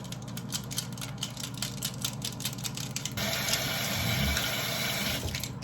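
Tap water running into a sink while makeup brushes are wetted, soaped and swirled clean, a steady close splashing flow that grows louder and fuller partway through.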